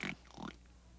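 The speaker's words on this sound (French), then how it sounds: "Et là-bas, c'est notre papa, le cochon." Cartoon pig in a French children's show grunts in two short bursts, fairly close and moderately loud, then quiet follows.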